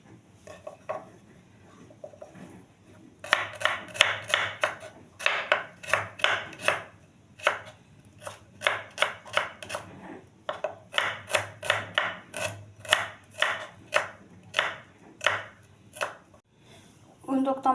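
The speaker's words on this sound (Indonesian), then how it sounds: "diiris-iris tipis" Knife thinly slicing ingredients for chicken and white tofu soup, heard as close, crisp chopping strokes on a cutting board in steady rhythmic runs, broken by brief pauses.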